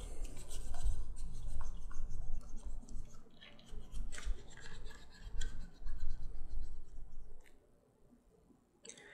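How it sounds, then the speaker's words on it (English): A slicker rubs back and forth along the edges of a leather knife sheath to burnish them. Dry, scratchy strokes come close and repeated in an uneven rhythm, then fade to near silence at the end. "then go back with the slicker"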